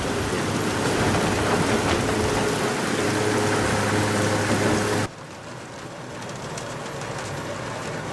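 Heavy rain pours as a dense, steady hiss in an Algodoo animated episode, loud for five seconds, then abruptly drops to a quieter continuous downpour.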